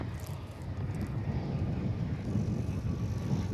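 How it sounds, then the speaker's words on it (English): An Airbus A319 jet arriving from Oaxaca, Mexico at Dallas/Fort Worth Airport gives a steady broadband engine roar, fairly loud and even throughout, with a faint hiss of wind. "Here comes an A319 from Oaxaca, Mexico."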